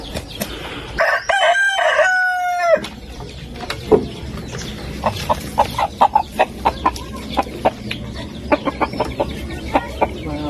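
A rooster crows once, loud and close, followed by scattered clucking and sharp pecking or tapping sounds in an otherwise quiet setting.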